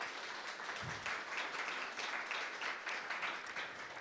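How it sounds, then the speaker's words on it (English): An audience at a women's awards ceremony gives sustained applause, a continuous even patter of many hands clapping that stays fairly faint and steady throughout. "Let's give that a round of applause."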